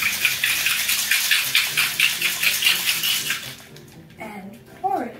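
A cocktail shaker holding a gin basil smash is shaken hard in a quick regular rhythm of sloshing, rattling ice for about three and a half seconds, then stops and a voice speaks.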